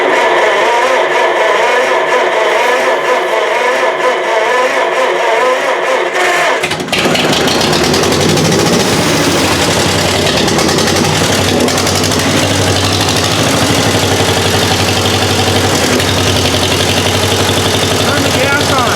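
An old John Deere Model M tractor with a frozen choke fires up for the first time in years. Its engine then idles loudly and steadily up close with an even, rough churning note, following a quieter stretch of background noise.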